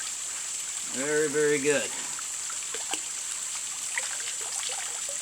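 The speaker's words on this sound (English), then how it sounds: "the water's running pretty clear" Tap water runs in a steady, soft rush as acorns are rinsed, continuing quietly throughout, with a brief stretch of speech near the start.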